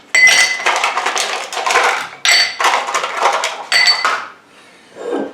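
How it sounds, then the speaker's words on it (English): Ice cubes dropped into a cocktail glass in three close, loud clattering bursts, each a rush of clinking and rattling that settles briefly before the next pour, with no talk. "Now I can put in my ice cubes."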